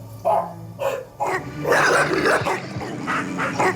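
Several dogs bark and yip in repeated bursts over roughly four seconds, fairly loud and close, with some whimpering and a rough, crowded texture beneath.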